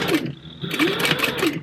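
Sewing machine running a quarter-inch seam on fabric with a size 12 needle at stitch length 3, a close, steady mechanical whir with rhythmic needle clatter.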